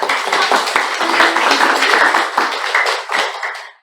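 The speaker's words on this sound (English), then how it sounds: "a thunderous round of applause to our Toastmaster, Punit Manandhar" Audience applause for the Toastmaster at a Toastmasters club meeting, a close, loud burst of many hands clapping steadily, then thinning and fading out.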